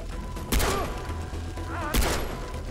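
Two heavy broadband blasts about a second and a half apart in Far Cry 3, rocket launcher shots with a thudding low end and bright crackle, loud and close over game background, with a voice briefly present.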